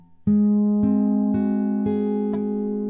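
A guitar chord rolled out one string at a time, five plucked notes each ringing on and overlapping into a sustained, fading chord.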